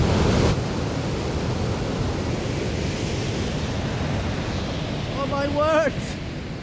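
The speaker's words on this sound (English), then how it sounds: "this is the falls just at the side of the Lanark here" Waterfall beside the mill village of New Lanark, a steady broad rush of falling water filling the scene at close range, with a brief exclamation from a person near the end.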